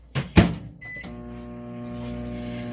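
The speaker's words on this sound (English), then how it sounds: "I do put the microwave setting on medium though" A microwave oven set to medium power for melting soap base: a couple of clicks and a thud give way to a steady, even hum running to the end.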